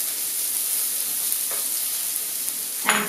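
Red onions frying in a pan, a loud continuous close-up sizzle with steady hiss and a brief stir scrape near the end.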